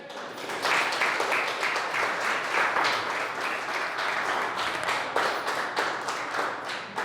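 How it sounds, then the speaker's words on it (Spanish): Applause for Jesus from a church congregation fills the room, a dense, steady clapping sustained for several seconds with no talking over it. "Dele un aplauso a Jesús."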